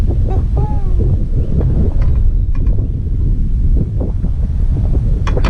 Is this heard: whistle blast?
no